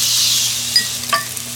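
Onion hits olive oil in a hot pan, giving a steady hiss of sizzling with a few small clicks and pops, close up and without voices.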